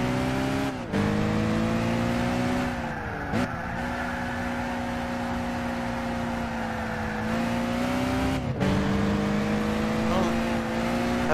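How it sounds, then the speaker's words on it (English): Rally car engine roaring steadily in the Gran Turismo 6 racing game, revs holding loud and continuous with brief dips at gear shifts, a tire squeal now and then. "This is actually a rally car."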